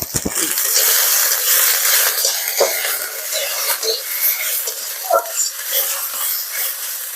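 Mrigel fish pieces fry in hot oil in a pan, giving a steady bright sizzle with small crackles and occasional stirring knocks throughout.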